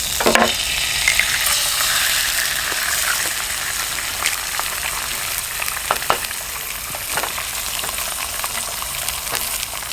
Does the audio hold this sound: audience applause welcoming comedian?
no